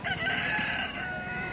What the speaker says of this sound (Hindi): ये वाला मुर्गा देख सकते हो